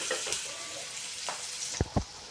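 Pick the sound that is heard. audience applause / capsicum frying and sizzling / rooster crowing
capsicum frying and sizzling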